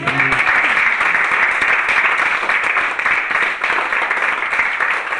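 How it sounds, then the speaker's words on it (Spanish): A church congregation claps loudly for God during a Spanish-language sermon, a dense, sustained roar of applause that stays strong and unbroken from start to finish. "¿Por qué no da fuertes palmas a Dios?"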